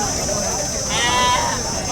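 A single short sheep bleat rises briefly over a noisy background with people talking nearby at a Saturday ram market.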